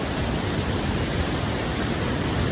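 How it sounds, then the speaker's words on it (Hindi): Mountain waterfalls pour down toward the Chenab river, filling the air with a steady, dense roar of rushing water that holds at the same loud level throughout, with no voices. "ये जो सारे झरने हैं ये जाके नीचे चिनाब दरिया में मिल जाते हैं।"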